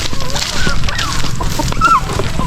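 Free-range turkeys cluck and call in short bursts, with a few higher squawks rising over a busy farmyard background.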